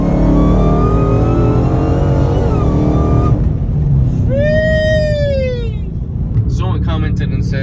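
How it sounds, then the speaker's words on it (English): A car accelerates hard in a fourth-gear roll, its engine note droning steadily and rising in pitch, then dropping at a shift before climbing again. Loud and close, with a voice speaking over part of it. "Do fourth gear roll."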